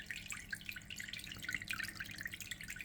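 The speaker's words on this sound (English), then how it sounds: "the water outweighs the humming from the motor" A cheap Baitai aquarium filter running with its outlet splashing into the tank, a steady stream of close, bright trickling and dripping with the low motor hum buried beneath the water noise.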